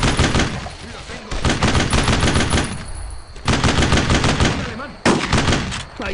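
Sustained machine gun fire in the World War II shooter Brothers in Arms: Road to Hill 30 rattles loud and close in long bursts, broken by short pauses.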